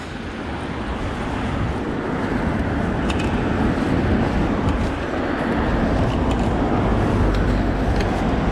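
Steady roadside traffic noise in Twickenham, a continuous broadband rush of vehicles passing close by with wind buffeting the microphone, rising slightly toward the end.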